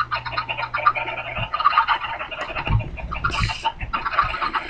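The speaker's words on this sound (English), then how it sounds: "I just have too many chickens." Chickens cluck repeatedly in a Minecraft-style cave, the game's fowl sounds coming close and fairly loud over a busy background of game noise.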